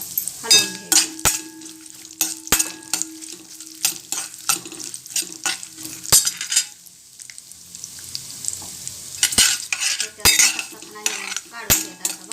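Dry fruits roast in a pan while a metal spoon stirs them, giving repeated loud clinks and scrapes against the pan over a continuous sizzle. The knocks come in irregular bursts with a brief quieter pause midway, and no one speaks.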